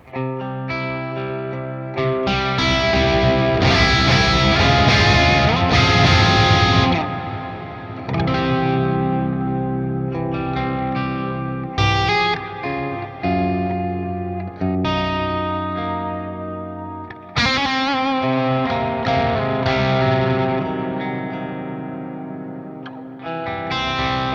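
Loud, crunchy distorted electric guitar through a Neural DSP Fortin Nameless amp plugin plays sustained chords and riffs, with brief pauses and sharp re-attacks.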